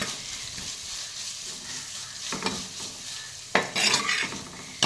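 Sliced onions sizzle and fry steadily in a hot pan for a Kerala coconut-ground curry, with a constant crackle and a few louder bursts as they are stirred and scraped around.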